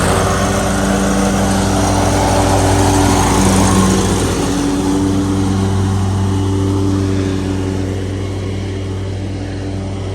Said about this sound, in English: So we're going to get to mowing this